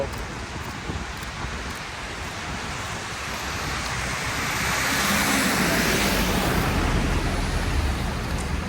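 Cold wind buffets the microphone in a snow-covered old quarter of Moscow, a dense, rushing roar that swells louder in the second half, with no clear talk.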